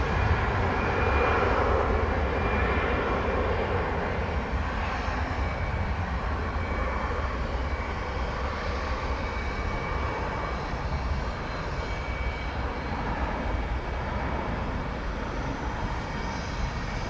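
An American Airlines Airbus A319 departs from DFW Airport with a sustained, loud engine roar that stays steady and broad for the whole stretch, with no talk over it.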